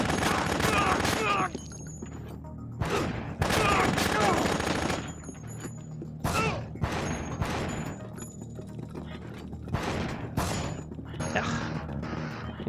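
Gunfire rings out in the game Dead Rising during a boss fight against an enemy armed with a P90, while the player finishes him with a pistol. Loud bursts of rapid shots repeat in clusters with short gaps between them, close and dense.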